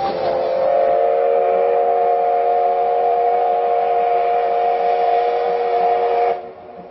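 A train's steady, droning horn or whistle blares loudly and continuously for several seconds in a valley in Japan, then cuts off abruptly near the end.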